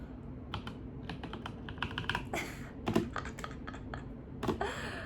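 Steady bursts of typing on a computer keyboard, close and fairly loud, with quick irregular key clicks and a few heavier spacebar thumps over faint room noise; no talking.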